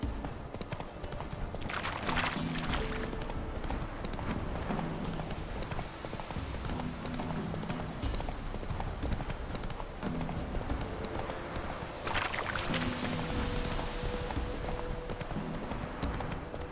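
A horse's hooves clip-clop at a steady walking pace in The Witcher 3 on PC, loud and close over a constant background ambience, with a faint snort or whinny now and then.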